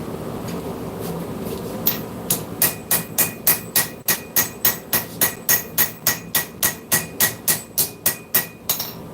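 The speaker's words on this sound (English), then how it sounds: "Little bitty hammer to just clean everything up." A small hammer strikes metal at a forge in a fast, even run of about twenty sharp ringing blows, close and loud over a steady background hum.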